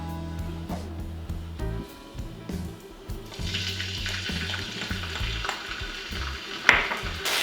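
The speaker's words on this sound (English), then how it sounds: "I'm going to fry up some garlic now" Garlic frying in a wok for a pork stir-fry, a steady sizzle that swells louder partway through, with occasional stirring scrapes and a sharp clink near the end.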